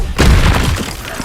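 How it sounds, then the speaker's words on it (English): A spell impact from the Hogwarts Legacy video game lands as a loud, booming crash with a shattering, smash-like edge, starting abruptly and then rolling on as a dense rumble for about a second. "Stego, Expelliarmus!"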